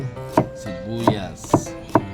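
Four sharp knife strokes chop onion on a board at an uneven pace, close and clear over a faint tonal background.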